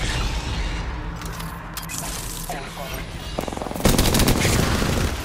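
Apex Legends firefight with rapid bursts of automatic gunfire, loud and close, rising into a heavier volley near the end, with a voice talking over it.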